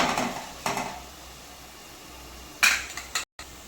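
Chicken tipped into a pan of frying masala and tomato pulp: a few sharp metallic clanks and scrapes of utensil on pan over a faint, low sizzle, close and without talk.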